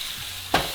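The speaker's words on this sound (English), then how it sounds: "Look at that sizzle." A brief burst of eggplant frying in a hot pan, a short sharp hiss rising over quiet background noise.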